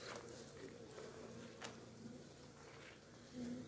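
Honey bees hum steadily around a hive outdoors, a continuous close buzz with a few individual bees passing louder near the mic, no speech.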